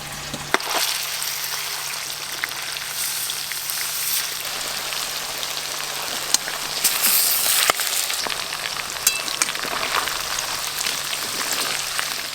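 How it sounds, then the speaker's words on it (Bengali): Marinated chicken pieces frying in hot oil, a steady dense sizzle and crackle running continuously and fairly close, with no talking over it. "এবার একটা একটা করে চিকেনের পিসগুলো দিয়ে খুব ভালো করে ভেজে নেব।"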